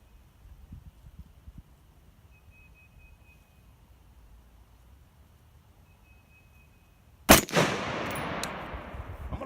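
A PSA AR10 rifle chambered in 6.5 Creedmoor fires a single loud, sharp shot after a long quiet stretch of faint outdoor background, followed by a decaying ring and echo.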